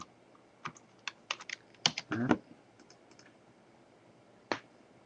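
Sparse, irregular key presses on a computer keyboard during a programming demonstration, with a quick burst of several clicks near the middle and one isolated press later, close and fairly faint.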